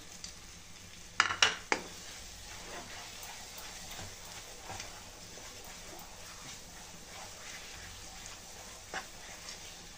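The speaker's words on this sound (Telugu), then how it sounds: "ఇప్పుడు ఇందులో ఫ్రై చేసి పెట్టుకున్న డ్రై ఫ్రూట్స్ వేసి కలుపుకోవాలండి" A spoon stirs fried dry fruits into besan halwa in a pan, giving a few sharp metallic clinks early on over a soft scraping and faint sizzle that continue quietly.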